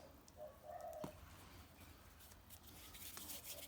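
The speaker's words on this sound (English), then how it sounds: "We have so many birds around here." Birds coo softly outdoors, faint and distant, against a steady background hiss.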